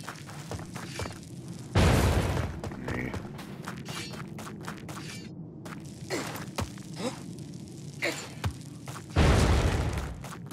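Two loud bomb blasts go off in the video game Oceanhorn, several seconds apart, each a booming burst that fades. A voice talks between them, and smaller clicks and whooshes from the game are mixed in.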